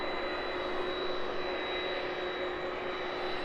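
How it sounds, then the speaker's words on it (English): A Boeing 767 jet taxis from the apron onto the taxiway at an evening airport, producing a steady, continuous engine roar with a high whine, heard at a distance without pauses. "The 767 proceeding though from the apron onto the taxiway, making its way out to Brussels this evening."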